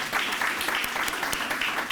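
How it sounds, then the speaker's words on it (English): Applause from the audience at a youth recognition ceremony in Yonkers, a sustained round of many hands clapping with a few sharper individual claps standing out, moderately loud, with no speech over it. "Another round of applause for them."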